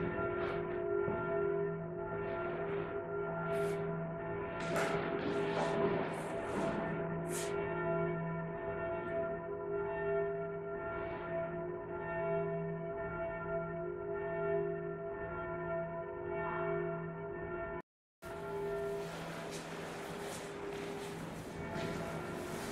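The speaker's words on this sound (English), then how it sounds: "bells have continued like this" Church bells ring on and on in Domrémy-la-Pucelle, France, their rich overlapping tones sustaining and swelling, with a brief cut in the sound near the end before they resume.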